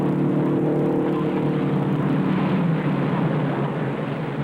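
Race cars roaring on the final lap of the 1958 Indianapolis 500, a steady, loud, continuous engine drone filling the whole stretch without any voices.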